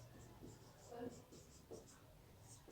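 Chalk or marker strokes on a classroom board during a Hindi lesson for young pupils: faint, short scratchy marks in a few bursts, with a soft voice in the background.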